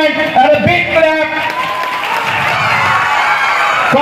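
At a school science exhibition award ceremony, children and adults applaud and cheer in a lively mix of clapping and shouts. A voice is heard briefly at first, then the crowd noise swells and holds steady.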